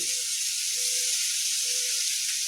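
Onions sizzle in hot oil on a high flame for a potato and green bean curry, a steady loud frying hiss with no break, with no voices over it.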